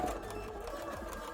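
A sewing machine runs a short back stitch through cosplay fabric for a Pumpkaboo costume, a steady close mechanical whir lasting about a second with no voices.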